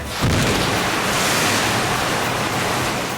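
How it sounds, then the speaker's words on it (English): A dump tank made of two stacked shipping containers releases about 3,000 gallons of water at once to make a rogue wave on a film set, a loud, sustained roaring rush that surges in and holds throughout. "To create the rogue wave, we have a dump tank, which is 2 sea cans on top of each other."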